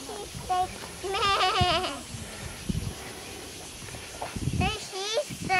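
Livestock bleating at a ranch, a long quavering call near the start and another near the end, close and fairly loud, with people talking between them.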